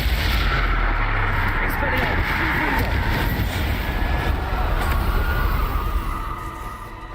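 Loud, continuous rumbling blast from a Bombarda spell explosion in the Hogwarts Legacy video game, a dense roar that holds steady for several seconds before easing slightly at the end.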